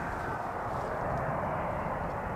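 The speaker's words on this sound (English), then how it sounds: "KLM flight 656, a 7879 Dreamliner coming in from Minneapolis" A KLM Boeing 787-9 Dreamliner, in from Minneapolis, arriving at Amsterdam Schiphol on runway 18R; a steady, broad engine roar holds at even loudness throughout, with no talk.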